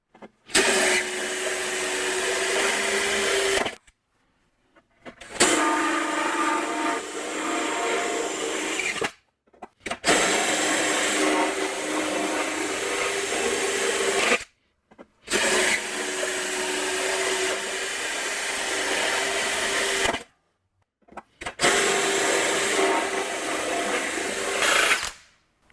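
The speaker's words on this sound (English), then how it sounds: "So I'm going to go down this row of 3/4 inch holes and make those first." Annular cutter boring a row of 3/4 inch holes in a seat part, heard as five loud, steady whining drilling runs of about four to five seconds each, separated by short silent pauses.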